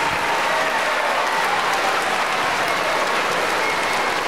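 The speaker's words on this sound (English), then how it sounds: "Let's give them a round of applause." Audience applause for students at a school district music concert, a steady, dense wash of many hands clapping that fills the room without a break.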